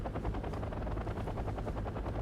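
A helicopter in the video game Wargame AirLand Battle drones with steady, fluttering rotor noise, loud and continuous with no other sound over it.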